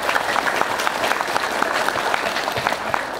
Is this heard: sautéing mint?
no